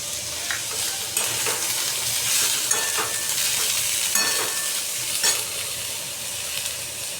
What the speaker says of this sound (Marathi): नंतर वाटाणा आणि बटाटा. तेलामध्ये परतून घेऊया.